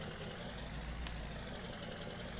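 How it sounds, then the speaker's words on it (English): A 500 HP Steiger Tiger tractor from the 1990s sits idling in Farming Simulator, its big engine giving a steady low, rumbling drone with a faint knocking texture, continuous and moderately quiet. "I like this tractor already."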